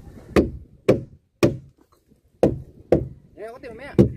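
Hammer blows drive nails into a wooden boat hull, seven sharp, loud knocks in an uneven rhythm with short pauses, close by, with brief voices and a whistle-like sound in between.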